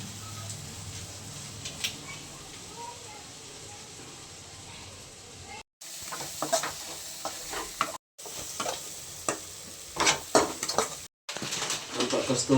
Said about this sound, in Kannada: ಮಸಾಲೆ ಎಲ್ಲ ಹಾಕಿದ್ರೆಲ್ಲ ಚೆನ್ನಾಗಿ ಫ್ರೈ ಮಾಡ್ಕೊತಿದ್ದಾರೆ.